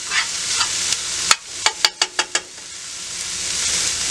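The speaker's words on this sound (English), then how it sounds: "Those onions are cooking down." Onions sizzling steadily in a hot pan, with a handful of sharp scraping knocks from a spoon stirring them, close up, then the sizzle continuing on its own.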